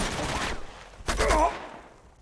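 Gunshots in the video game Uncharted 2: Among Thieves, two brief bursts of fire about a second apart, with faint talking underneath.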